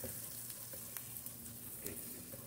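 Onion sizzling in hot oil in a frying pan while cuttlefish is being cooked, a steady close crackle with occasional sharper pops and stirring scrapes.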